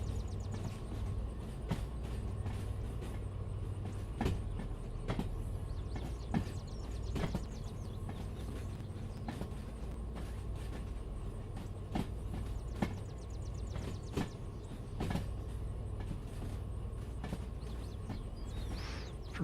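A short train rolls at low speed in the DV Sim railway game, a steady low rumble punctuated by regular rhythmic wheel clicks over rail joints, fairly faint and with no talk.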